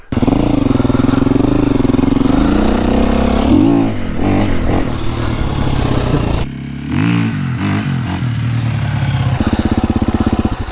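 A 2025 KTM EXC-F four-stroke dirt bike ridden in snow, its engine loud and close, droning and revving up and down with throttle changes, dipping briefly and then climbing again toward the end.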